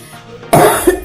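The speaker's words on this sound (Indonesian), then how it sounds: "Betah amat batuknya" A single sharp, close cough from a woman in a quiet room, loud and abrupt, followed by a brief second rasp.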